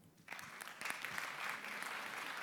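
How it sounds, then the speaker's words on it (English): Applause from a discussion-forum audience starts abruptly after a brief quiet moment and carries on as a steady, moderately loud patter of many hands. "Applause."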